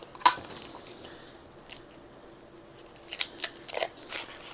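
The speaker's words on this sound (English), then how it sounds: "all I'm going to do is unwrap these and chop them up" Frozen cookie dough is unwrapped and chopped with a crinkling rustle of wrapper and a few crisp cuts and crunches scattered through a fairly quiet stretch with no talking.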